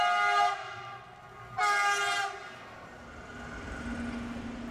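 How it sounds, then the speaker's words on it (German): A train on the Gotthard line in Switzerland sounds two loud, close horn blasts, a short one and then a longer one, followed by a steady rumbling roll as the train passes. "Jeder Zug tönt anders."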